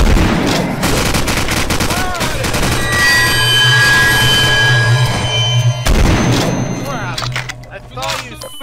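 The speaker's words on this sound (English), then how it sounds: "Somebody shot me in the back!" Rapid bursts of gunfire in Garry's Mod, loud and close, volleys running through most of the clip alongside ringing tones, with people talking over the shooting.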